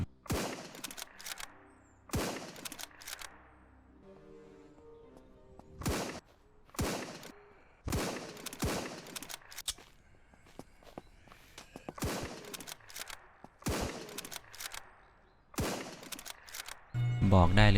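Rifle shots ring out in the zombie survival video game SurrounDead, several sharp bursts spaced a second or two apart with quieter gaps between, mixed with in-game movement sounds.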